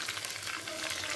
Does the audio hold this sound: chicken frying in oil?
yes